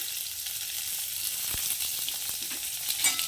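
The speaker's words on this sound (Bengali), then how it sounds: "তো এটাকে একটু হালকা সাঁতলে নেব, খুব বেশি ভাজার দরকার নেই" Onion, ginger and garlic fry lightly in hot oil for a South Indian-style fish curry, giving a steady close sizzle with a few soft stirring knocks and scrapes.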